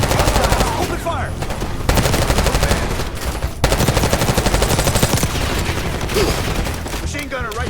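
Dense, loud gunfire from Call of Duty Black Ops 6 during an office firefight: sustained rapid automatic bursts layered with heavier single shots, almost continuous across the whole stretch with only brief dips.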